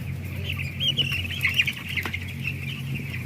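Chickens cluck and chatter steadily in the background over a low hum, a busy farmyard flock with no voices.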